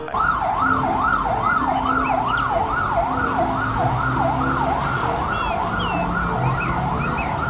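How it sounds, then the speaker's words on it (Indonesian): A toy fire-truck siren wails in a steady, rapid up-and-down rise and fall, loud and close, running continuously over a faint electronic hum. "kalau yang ini mobil pemadam kebakaran"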